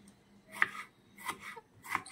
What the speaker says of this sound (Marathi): जास्तीत जास्त पातळ चिरण्याचा प्रयत्न करायचा आहे